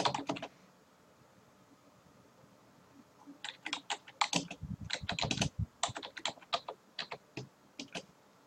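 Typing on a computer keyboard: a short burst of keystrokes, a pause, then a longer run of close, irregular clicking taps.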